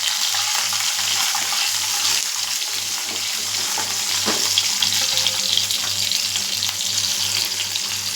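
Shallots fry in hot oil for a fish curry, giving a steady, close sizzle and hiss that runs without a break, with a low rhythmic hum pulsing underneath.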